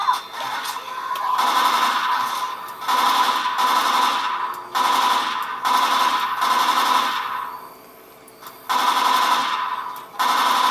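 Rapid bursts of loud machine gun fire in a zombie shooter game, several long sustained volleys separated by brief pauses, dense and continuous with no talking.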